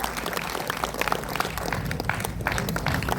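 Audience clapping at the Fish, Curry & Rice book launch with Justice Ferdin Rebello, a short burst of brisk, fairly close applause with uneven individual claps.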